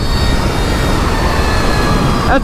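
An 80 horsepower light aircraft engine roars at full power, a loud, steady, unbroken drone close by from start to finish.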